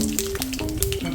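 Mustard seeds, with cooked lentils and curry leaves nearby, crackle and sizzle in hot oil for a upma dish, a dense, close frying hiss with sharp spattering pops and a clinking stir.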